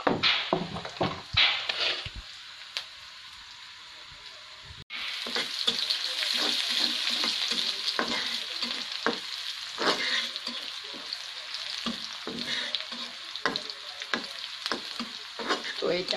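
Oil sizzles and crackles in a pan before greens are added, a steady frying hiss with occasional stirring scrapes, quieter at first then continuous and close.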